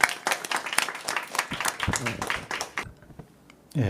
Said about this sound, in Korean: 김 박사님 부탁합니다. 박수로.